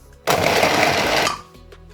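A blender whirs through washed strips of pepper with onion and garlic in one loud, steady burst of about a second, then cuts off, with no voices over it.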